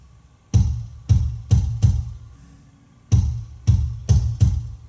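A compressed kick drum plays back in two groups of four punchy, booming thumps separated by a brief pause, each hit decaying quickly into quiet.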